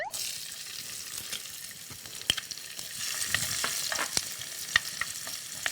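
Garlic frying in hot cooking oil in a preheated pan, a steady close sizzle broken by sharp clicks and scrapes of stirring, with the sizzle swelling louder partway through.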